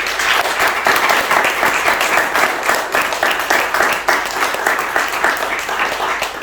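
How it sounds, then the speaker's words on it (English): Loud, dense applause from a crowd, many hands clapping steadily and close by throughout. "So if we can just give a round of applause to the speakers."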